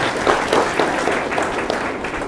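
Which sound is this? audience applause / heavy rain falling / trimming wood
audience applause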